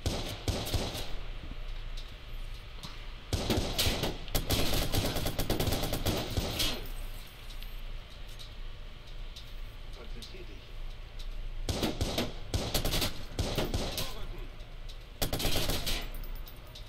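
Rapid bursts of automatic gunfire in a Watch Dogs shootout, clustered volleys of machine-gun fire loud and close, separated by quieter stretches with game ambience.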